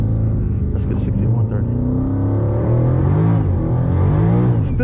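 A Dodge Hellcat at wide-open throttle from about 60 mph in second gear, its engine roaring steadily and rising in pitch as the rear tires keep spinning, loud and close with people talking inside the car throughout.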